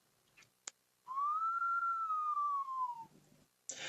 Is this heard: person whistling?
yes